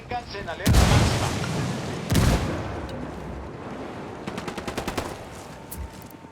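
Frag grenade explosion in Ghost Recon Wildlands co-op play: two heavy booming blasts a second or so apart, followed by scattered crackling gunfire and debris, with voices over the action.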